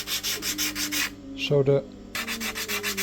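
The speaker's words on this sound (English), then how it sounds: "I will also slightly bevel the edges with a sanding block like this," A handheld sanding block rubs in steady back-and-forth strokes, bevelling the edges of wooden parts for a model RC boat hull. A person speaks briefly during a pause in the strokes.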